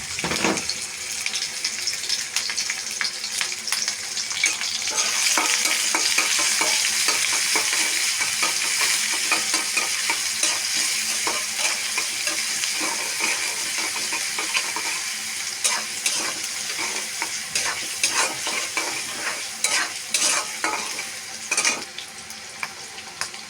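Green chilies and chopped onions frying in oil, with a steady bright sizzle that rises early and holds while a utensil stirs and scrapes at irregular moments.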